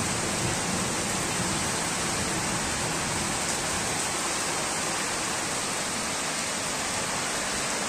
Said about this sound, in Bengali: এই টিনের চাল, কত সুন্দর বৃষ্টি হচ্ছে দেখুন বন্ধুরা।